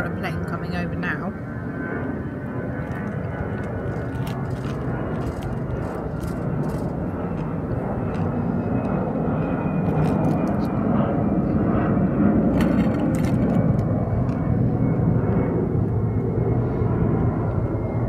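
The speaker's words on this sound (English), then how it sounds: "There's an aeroplane coming over now." An aeroplane passes overhead near the coast of Fuerteventura, a steady broad engine roar that slowly swells louder across the whole stretch while people chat nearby.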